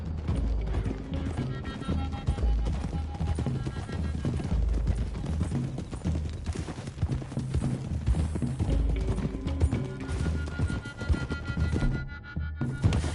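Horses gallop across open country in the Western video game Red Dead Redemption II, a steady rapid clip-clop of hooves with creaking tack running continuously under a music and ambience bed.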